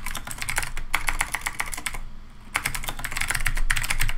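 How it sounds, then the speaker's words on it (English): Rapid clicking of keys on a computer keyboard, typed in quick bursts with a brief pause midway, close and clear. "Sorry about my typing."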